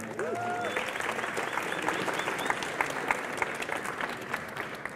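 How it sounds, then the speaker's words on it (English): Audience applause at a tech conference talk on voice design, steady dense clapping filling the room for the full length, with a faint tonal whistle early on. "Can we have a round of applause?"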